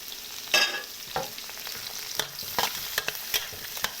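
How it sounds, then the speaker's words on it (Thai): Clams stir-fried with shallots and garlic in a pan give a steady sizzle, broken by sharp scraping and clattering stirs close by, with no voices. "กระเทียมหอมแล้วกับใส่หอยลงไปเลย"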